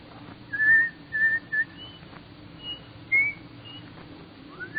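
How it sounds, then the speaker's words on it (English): A man whistles the tune Coming Through the Rye, a few short bright melodic phrases with pauses between them, moderately close over a low background hum. "Let me hear you whistle Coming Through the Rye."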